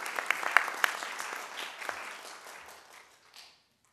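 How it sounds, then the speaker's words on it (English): An audience at a Coral Springs city commission meeting applauds, a burst of clapping that starts strong and fades away over a few seconds. "Give him a round of applause."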